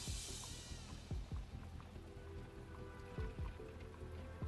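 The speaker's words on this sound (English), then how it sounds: "It's raining too hard, and I can't see too well" Heavy rain falls in the Arknights game, a soft, steady patter with scattered drips and splashes and low thuds throughout.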